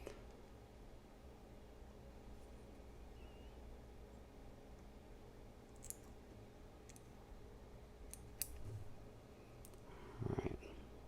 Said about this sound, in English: I'm going to trim all that away. Luckily I have a super fine point scissor here.